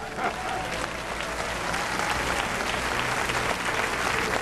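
A church audience breaks into sustained applause, dense steady clapping from many hands filling the space evenly, with a crowd murmur underneath.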